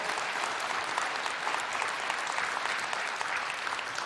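Live podcast audience applauding at a recorded show, a steady, dense wash of clapping that holds evenly throughout without pause, close and full.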